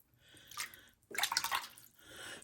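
Water splashes and sloshes in short bursts as clothes are rinsed by hand in dirty rinse water, close and fairly quiet with brief pauses between strokes.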